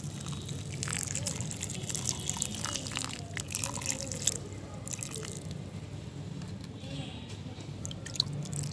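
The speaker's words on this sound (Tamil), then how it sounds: "விதை முளைக்க போடுறதுக்கு முன்னாடி நம்ம இதில் தண்ணி ஊற்றிடலாம்." Water pours into a pot of potting soil mix ready for seed germination, a continuous close trickle and soak with soft dripping and squelching textures throughout.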